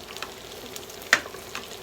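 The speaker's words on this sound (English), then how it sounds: "Flip it under, let it finish frying the rest of the way" Egg foo young frying in a pan of oil for chicken egg foo young with gravy, a soft steady sizzle with faint crackles and one sharper pop partway through.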